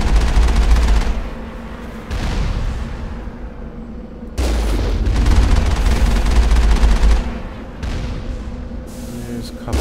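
Turret gunfire from buildings in the Mass Effect video game, sustained rattling bursts that stop and restart several times over a low rumble, loud and close.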